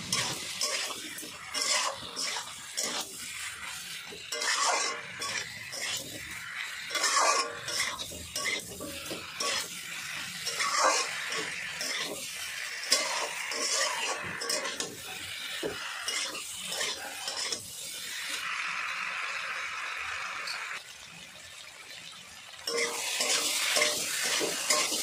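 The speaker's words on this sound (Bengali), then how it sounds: "ভালো করে আলু আর কচুটা কষে নিয়েছি মশলার সাথে" Potatoes and taro roots stir-fried with spices for a hilsa fish curry, a spatula scraping and stirring steadily in a sizzling pan, close and continuous with occasional clinks of utensil against metal.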